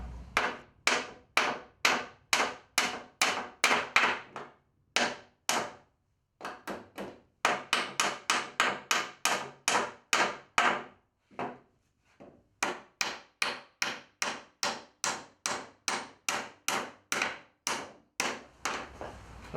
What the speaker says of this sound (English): put that other big club hammer behind when you're nailing from this side to help absorb some of that shock